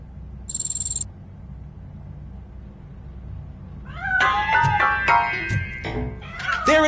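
In Robocop Rogue City, a cat hidden inside a piano lets out several drawn-out, wavering meows, close and clear, after a brief electronic tone and a quiet game ambience.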